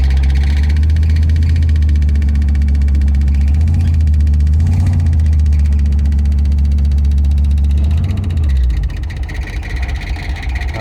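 A 1973 Ford F-250 engine runs steadily in drive after 18 years of sitting, with a loud, close, low rumbling idle and slight shifts in pitch, then a softer, lighter tone near the end.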